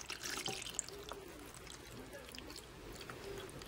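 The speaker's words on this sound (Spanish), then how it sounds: "lo que vamos a hacer es agregar la gelatina restante roja que dejamos a temperatura ambiente" Remaining red gelatin, left at room temperature, pours into a mold as a faint, steady liquid trickle with a few soft drips, low and close, with no talking.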